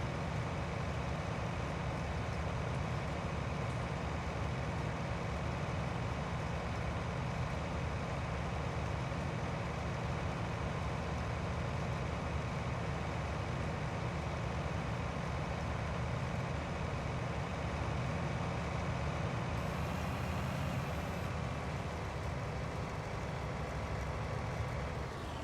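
Combine harvester and passing traffic engines in Farming Simulator 20 during a canola harvest, a steady continuous mechanical drone at even loudness with no speech.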